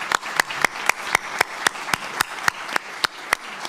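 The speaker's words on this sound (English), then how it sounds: "let's go ahead and give these guys a round of applause" Sparse, evenly spaced claps from a small audience at the close of a career panel talk, about fifteen distinct sharp hits in a slow steady rhythm, fairly faint and close.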